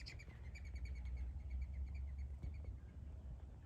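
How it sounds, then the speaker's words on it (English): Small birds at a garden bird feeder chirp and tweet in quick repeated bursts, moderately near, over a constant low outdoor rumble. "I put up my bird feeder over there. And so we've had a lot more bird activity"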